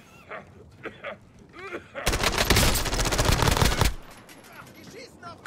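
Rapid automatic gunfire in Call of Duty Warzone, a dense loud burst lasting about two seconds, preceded by a few scattered shots and followed by quieter game ambience, with a player's voice speaking around it.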